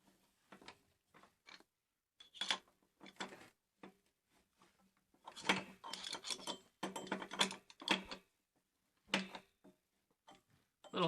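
Wrench tightening a water heater element so its rubber washer seats, a series of short, close ratcheting clicks in bursts, with a denser run of clicking in the middle and no talk.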